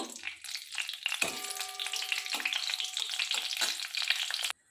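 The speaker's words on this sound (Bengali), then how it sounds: "ভালো করে আমি ভেজে নেব।" Bay leaves and dried red chillies fry in hot oil, a loud, continuous close-up sizzle with stirring scrapes that cuts off abruptly at the end.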